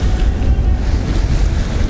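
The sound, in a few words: waves from a passing skiff's wake hitting a sailboat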